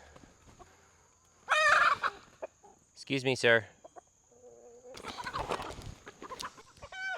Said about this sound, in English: This rooster is being protective.